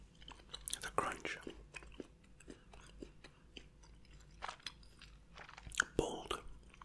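Crunchy bites and chewing of dark milk chocolate come up close and intimate in a quiet room, irregular crisp snaps and mouth sounds with some soft whispering in between.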